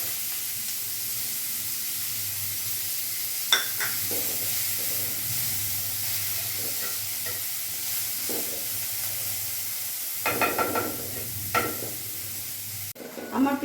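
Chopped onions hit hot oil in a Bengali home kitchen while cooking banana flower with prawns, giving a steady low sizzle with occasional stirring clatters and bursts of louder frying.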